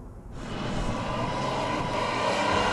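A Toyota car's engine keeps running with a steady, broad droning hum that swells slightly after a brief quieter start and then holds level, close and continuous.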